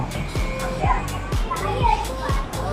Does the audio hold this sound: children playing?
yes